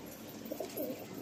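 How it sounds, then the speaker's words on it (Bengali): Giribaz pigeons at a pigeon sale in Sonarpur, Kolkata give soft, low cooing calls, a couple of brief rolling coos close by against a steady background hum. "এখানে গিরিবাজ পায়রা রয়েছে"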